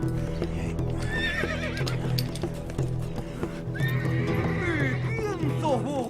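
A horse in an animated Argentine film whinnies loudly several times over rhythmic clip-clopping hooves, close and prominent, with speech and other voices mixed in.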